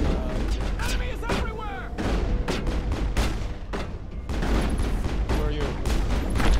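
Gunfire in the video game Mass Effect during Wrex's loyalty mission: dense rapid bursts of shots and booms fill the clip, loud and continuous, with voices talking over the combat.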